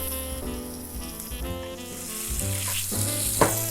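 Pecan-crusted salmon sears in a hot pan, producing a loud, even sizzle that holds steadily throughout with a few brief crackling swells and no talking.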